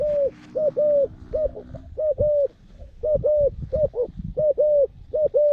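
A decoy dove coos loudly and close, repeating short hollow notes in quick rhythmic phrases, with faint rustling underneath.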